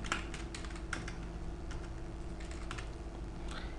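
Quick, steady keystrokes clatter on a computer keyboard as a connection name is entered in database developer software, close-up with no talking.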